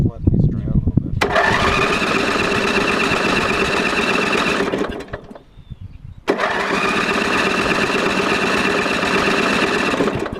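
An old riding lawn mower that sat unused for years cranks and fires, running in a steady loud putter, cutting out briefly, then restarting and running on steadily.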